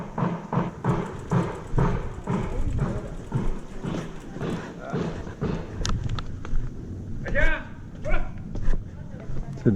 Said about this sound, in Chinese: 这里还有一个穿着衣服的小狗